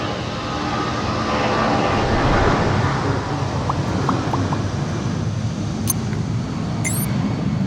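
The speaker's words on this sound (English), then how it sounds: "We wait till the plane pass." A fixed-wing airplane roars steadily overhead while taking off, a loud continuous engine wash filling the whole stretch with no talk.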